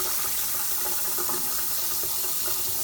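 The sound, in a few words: rinsing raw beef under running tap water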